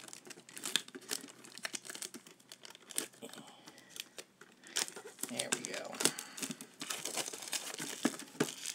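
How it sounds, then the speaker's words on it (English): Foil Pokémon card pack wrapper ripped open up close, bursts of crinkling and tearing scattered over several seconds, with quiet sounds between the rips. "so I'm just gonna go ahead and rip into it"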